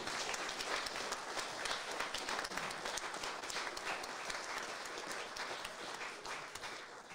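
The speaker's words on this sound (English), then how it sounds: "can you clap for everybody at Hermit Woods Winery" Audience applause at an evening songwriter concert at Hermit Woods Winery, dense steady clapping from a crowd that fills the whole stretch at even loudness.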